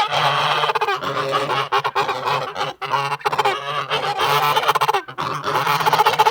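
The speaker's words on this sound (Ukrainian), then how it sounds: "Так, це гуска точно." Geese honk loudly and repeatedly, overlapping calls from several birds close by in a continuous noisy chorus.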